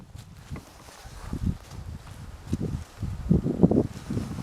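Breezy winter wind at a cold-weather hammock campsite, low gusty rumbling against the microphone that rises and falls, with faint rustling and shuffling movement, fairly loud and close.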